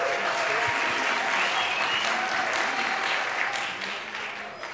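Applause from a church family music night audience, sustained many-handed clapping with a few voices mixed in, holding steady before gradually tapering off.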